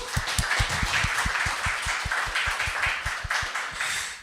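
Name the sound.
applause for a speaker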